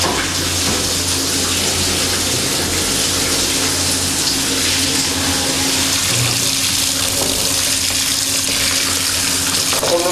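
A spiny lobster is rinsed under running tap water in a kitchen, with a loud, steady gush of water splashing continuously and close.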